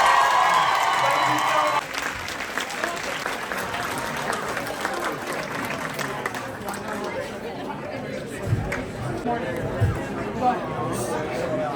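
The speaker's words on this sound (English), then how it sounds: "please give them a round of applause" A fan convention crowd at a Scream cast panel during Scarefest Weekend applauds in a broad, steady wash of clapping mixed with chatter and scattered cheers, continuing throughout.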